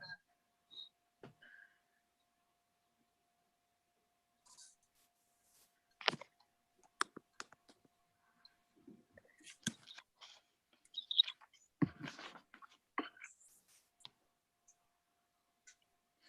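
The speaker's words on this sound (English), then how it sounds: "She's typing" Sparse, faint clicks of a computer keyboard being typed on, scattered irregular taps and short bursts over near-silence in a quiet room during a Zoom board meeting.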